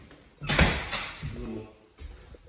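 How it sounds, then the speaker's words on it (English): A front security door on a house is opened, giving a sharp clattering rattle followed by a softer scrape and a faint later knock, fairly close and with no talk over it. "This is the front door, obviously. Got a security door."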